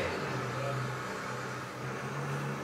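A bus comes around a road bend as a low, steady engine rumble that stays distant and even, with no voices over it.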